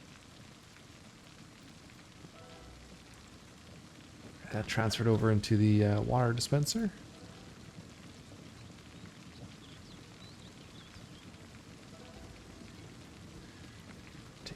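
Steady rain and rumbling thunder in the zombie survival game Project Zomboid, Build 42, a constant wash throughout with a louder burst of noise in the middle while someone talks over it.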